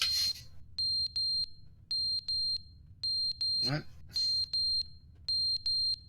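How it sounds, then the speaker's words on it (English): A smoke alarm in The Stanley Parable chirps in quick clusters of high electronic beeps with short gaps between, while a voice briefly speaks over it. "That's a smoke alarm."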